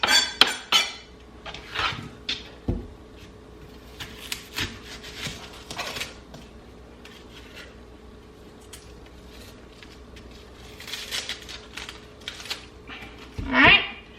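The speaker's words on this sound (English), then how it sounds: "So now we're gonna go ahead and cut up our onion." A knife cuts through an onion on a wooden board, giving sparse, irregular rubbing and scraping strokes with a few sharp knocks of the blade, close and fairly quiet against low background hum.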